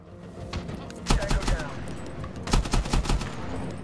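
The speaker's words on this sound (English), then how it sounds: "Putting fire down." Bursts of rapid automatic gunfire in the Medal of Honor video game, two loud clusters of close shots over a steady background of battle noise, with faint speech nearby.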